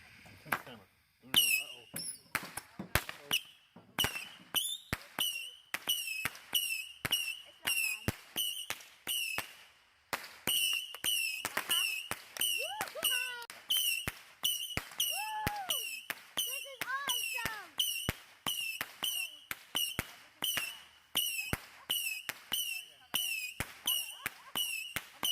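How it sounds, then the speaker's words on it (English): Saturn missile fireworks fire a long rapid string of sharp cracks and pops, each with a brief whistle, mid-distance, with voices talking in between. "Saturn missile."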